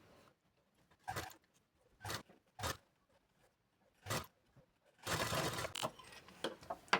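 A sewing machine stitches blouse fabric in short, separate mechanical bursts with quiet pauses between them, then runs in a longer, busier stretch near the end.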